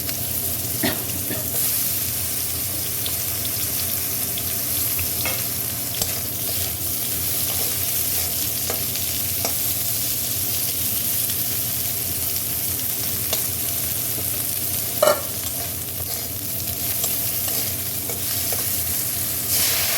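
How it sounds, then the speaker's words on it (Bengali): Eggplant and other vegetables are stirred in a little oil in a pan with a steady close sizzle throughout and occasional scrapes and clicks of the spoon, with no talking. "এখন সবজিগুলোকে একটু অল্প তেল দিয়ে, এটার মধ্যে বেশি তেল দেওয়া ছিল, যার জন্য আমি এটার মধ্যে সামান্য একটু তেল দিয়ে বেগুন আর ওটা একটু নেড়ে চেড়ে নেব।"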